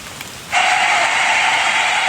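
Rain falling onto dry leaves outdoors, a sudden onset of steady, dense hissing patter that continues loud and close after a brief quiet start.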